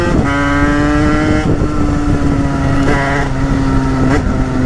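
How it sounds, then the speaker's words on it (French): A motorcycle running at about 100 km/h with a carburettor being tuned, its engine droning loud and steady with strong harmonic whine, rising in pitch in repeated surges as the bike vibrates. "on a pris 100 et que la moto vibre"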